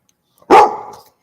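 A dog gives one short, loud, close bark that trails off quickly, with silence before and after.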